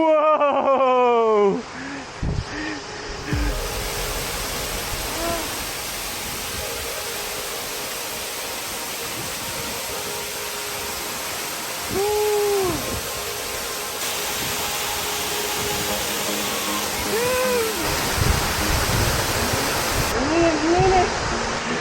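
A waterfall in a forest near Chiang Mai, Thailand, roars steadily and loudly, a constant rushing wash of water, with people's excited voices and exclamations rising over it at times.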